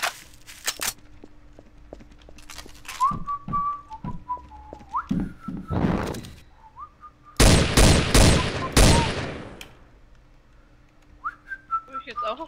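Sharp gunshots in the game Trouble in Terrorist Town ring out, a few single cracks and then louder rapid volleys, with whistling tones in the quieter gaps.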